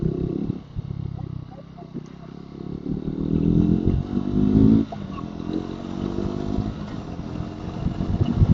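A Triumph Tracker 400 motorcycle engine drones while riding, a rough low rumble that rises and falls with throttle changes and carries strong wind noise, with someone talking over it.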